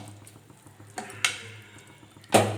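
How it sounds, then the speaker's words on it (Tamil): A ladle stirring porridge scrapes and clinks against a pot a few times at irregular intervals, quiet between strokes, with a faint low hum underneath. "இப்போ நம்ம கரண்டியால் நல்லா கலந்து விட்டுக்கலாம்"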